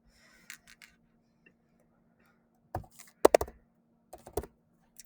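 Calculator keys tapped in quick irregular clusters of soft clicks, close and quiet, with pauses between bursts and no talking.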